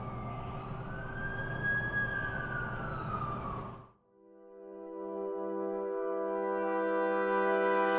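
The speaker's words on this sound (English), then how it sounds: "That's the ambulance I called." A wailing ambulance siren in The Amazing Spider-Man 2 video game sweeps loudly for about four seconds, breaks off abruptly, then gives way to a steady electronic tone that swells back up.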